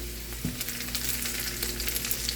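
Cloves and cinnamon pieces drop into browned onions frying in oil, bringing a dense, steady crackling sizzle, loud and close, with faint stirring and no voices.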